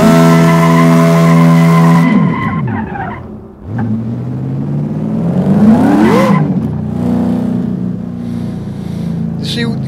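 A 1967 Chevelle SS 396 spins a donut, its tires screeching in a loud, sustained skid as the engine pitch climbs and falls, with a voice briefly heard over the squeal.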